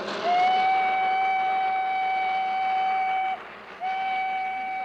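A model train on a Canadian model railroad, with a sustained whistle-like tone over faint running noise that breaks off briefly and then resumes.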